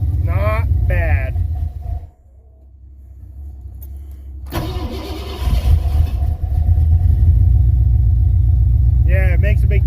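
A Mercury Comet car fitted with Holley Sniper fuel injection cranks briefly, then its engine catches and settles into a steady, loud idle close by, with people talking over the running motor.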